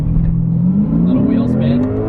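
A Lexus RC F accelerates hard with a little wheel spin, its engine note climbing steadily in pitch from inside the cabin, with a voice talking over it.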